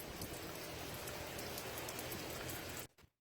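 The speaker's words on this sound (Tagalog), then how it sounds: "Rainy, chilly day today." Steady, dense rain pours on a chilly, windy fall day with leaves coming down, an even hiss with no talk that cuts off abruptly near the end.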